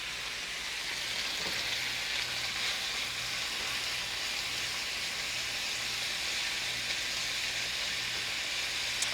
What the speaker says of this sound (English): I'm just gonna let this sear for a second, and then we'll go ahead and move that around a bit